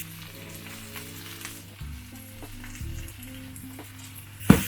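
Cabbage charring in an oiled hot pan produces a soft, steady sizzle with occasional light stirring knocks and a sharper clatter at the very end, close and free of talk.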